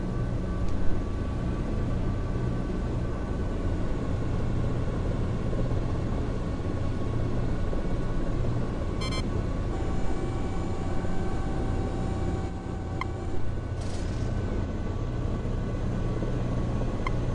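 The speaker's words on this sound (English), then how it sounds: "There's no stealth features on this helicopter, and it is loud as balls" A military helicopter in the video game Nuclear Option drones loudly and continuously, its engine and rotor noise forming a dense, unbroken rumble with faint whining tones and a couple of short electronic beeps.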